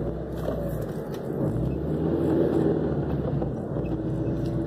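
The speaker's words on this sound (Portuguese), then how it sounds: "Tá descendo um carro aqui, ó." A car rolls down a residential street with a low, steady engine rumble that swells slightly as it passes nearby, with no talk over it.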